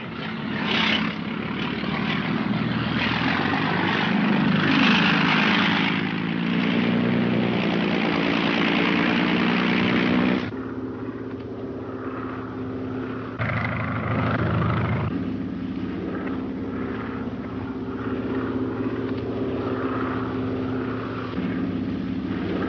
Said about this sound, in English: Looks to me like Edmund's plane.